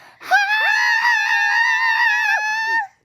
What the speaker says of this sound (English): let's scream the lyric